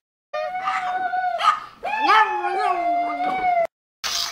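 A dog howls in long, wavering tones, pausing briefly between two drawn-out howls, close and loud, then a short burst of noise at the end.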